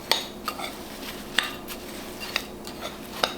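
Spoon clinking and scraping against a bowl while protein powder, chia seeds and hemp hearts are mixed together, a few sharp close taps spaced out over low room noise.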